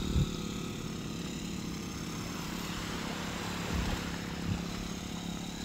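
An island fishing boat's motor drones steadily and loudly, a continuous low engine rumble with wind and water noise and no break.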